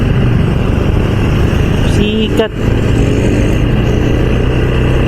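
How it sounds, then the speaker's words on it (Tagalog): A loud Motorstar Xplorer 250 motorcycle engine with unstable RPM runs steadily throughout, with a brief dip and sharp transient midway and a voice speaking briefly over the roar. "Sobrang ingay ng makina ko."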